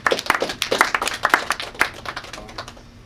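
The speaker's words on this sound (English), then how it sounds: "Let's give him a big round of applause" A small panel audience at Momocon 2005 claps for Sid Grand: a thin scatter of separate, uneven hand claps from a few people, quick and close, tapering off near the end.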